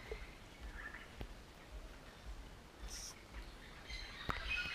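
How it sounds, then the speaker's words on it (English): Parrots call in a forest with scattered faint chirps and a couple of brighter squawks over a steady hiss of ambient background, distant rather than close. "some parrots in the forest here"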